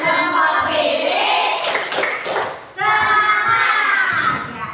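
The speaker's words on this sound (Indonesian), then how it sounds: "Kita tepuk semangat ya, dan tepuk anak Indonesia hebat." Children in an Indonesian primary classroom clap along to a rhythmic chant, with quick bursts of hand claps mixed with lively young voices chanting and shouting close by.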